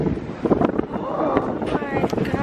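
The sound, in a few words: wind in a New York street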